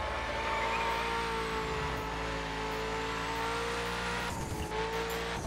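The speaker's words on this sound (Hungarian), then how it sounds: "Olyan milyen turbo hangja van." Turbocharged car engine in the racing video game The Crew, with a Mini Cooper and a BMW Z4 among the cars, played on a steering wheel: a steady, loud engine drone with rising revs and a shifting tone near the end.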